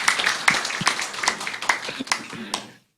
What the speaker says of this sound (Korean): 박수 한번 하실게요